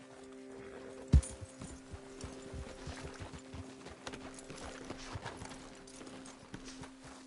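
Irregular clip-clop of horse hooves at a walk in Red Dead Redemption 2, a sharp knock early on, with a faint steady hum beneath.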